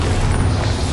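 A Bombarda blasting spell goes off in the wizarding game Hogwarts Legacy as a single loud, close, rumbling explosion that fills the short moment.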